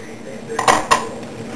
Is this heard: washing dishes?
yes